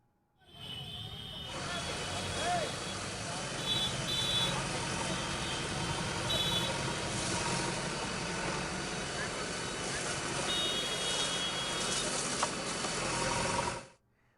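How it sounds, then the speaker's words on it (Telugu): Five fire engines idle at a large industrial fire in Jeedimetla, a dense, steady engine rumble and broad noise lasting throughout, with a few faint tonal whines above the drone. "ఘటనా స్థలానికి చేరుకున్నాయి 5 ఫైర్ ఇంజన్లు"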